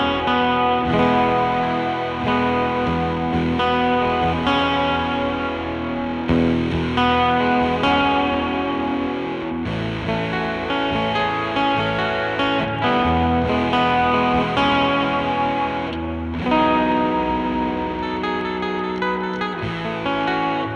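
An electric guitar played through a SubSix hexaphonic pickup, with reverb applied only to the high strings, rings out in sustained, effects-laden chords and notes with steady loudness and no speech.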